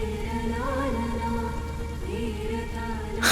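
Steady rain falling, a dense continuous hiss with a brief louder burst at the very end, no talking.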